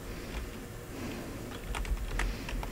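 Keyboard typing, a soft run of key clicks over a steady low background hum, with a brief cluster of sharper taps toward the end.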